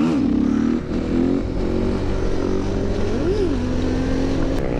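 A KTM supermoto motorcycle revs hard for a wheelie, its engine note climbing and dipping in a few quick throttle blips over a steady loud drone, close and without talking.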